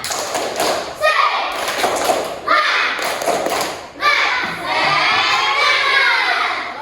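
Schoolchildren in a fifth-grade class perform a rhythmic clapping chant, loud bursts of claps and thumps mixed with their voices shouting together, repeating in phrases with short pauses between.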